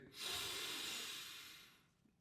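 A single long, soft exhale during a relaxing yoga session: a breathy hiss that swells quickly, holds for over a second, then fades. It is close and quiet, with no talking.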